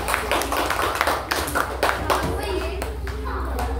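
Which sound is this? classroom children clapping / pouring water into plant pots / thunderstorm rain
classroom children clapping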